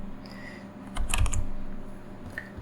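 A short burst of typing on a computer keyboard, several quick key clicks close by against quiet room noise, with no voices.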